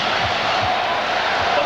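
Basketball arena crowd at Game Six of the 1992 NBA Finals between the Bulls and Blazers, a dense steady roar of many voices, loud and sustained throughout.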